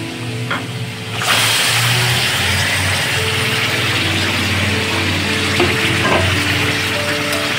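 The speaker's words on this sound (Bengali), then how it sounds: "এবার মাংসটা দিয়ে দেবো।" Chicken pieces sizzle loudly after hitting a hot pan with ginger-garlic paste for a sweet-sour-spicy curry, a quieter crackle jumping to a steady, dense frying hiss with a few faint utensil clinks.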